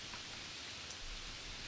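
Steady rain falls in a continuous, soft, dense patter of drops on a surface, faint and unbroken, with no voices.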